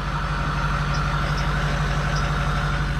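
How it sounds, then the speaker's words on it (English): Idling 2003 Ford F350 dually with a modified, loose exhaust pipe rubbing against the cross member, heard as a steady low engine rumble with a faint rattling texture, close and continuous with no talking. "you can hear the pipe rubbing against the cross member inside the car"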